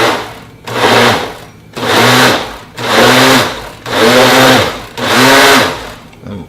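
A food processor chops and purees thick sweet potato filling for a pie in five pulsed bursts of whirring motor, each about a second long, with short pauses between them and no voices.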